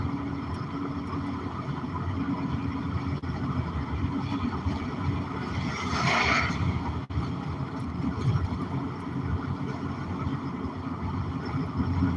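A Dead River truck passes on a road by a trailer park, its engine and road noise a steady, loud rumble that swells briefly midway as it goes by, with no talking.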